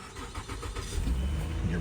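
A car engine cranks and catches after a jump-start from a portable battery booster, a low rumble swelling into a steady idle close to the microphone.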